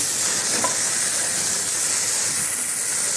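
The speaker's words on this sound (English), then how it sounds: "It's all frying nicely." Chicken tikka frying in a pan gives a steady, close hiss and sizzle throughout, with no voices over it.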